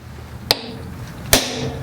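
Center punch struck on a Honda CB500F motorcycle to mark a drilling spot: two sharp metallic taps about a second apart, close and fairly quiet against a low background hum.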